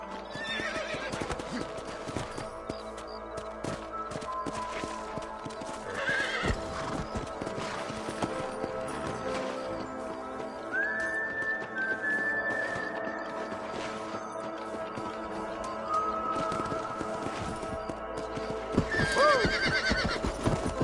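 A horse in the Red Dead Redemption western video game trots with steady clip-clopping hooves and lets out a couple of whinnies, moderately loud over faint background ambience.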